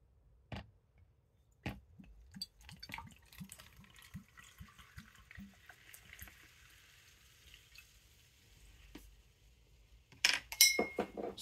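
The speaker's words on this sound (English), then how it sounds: "Now, top off with soda water." Tansan soda water is poured over whiskey and ice in a glass for a Japanese highball, giving faint fizzing and crackle with scattered soft ice clicks, then a brief louder splash near the end.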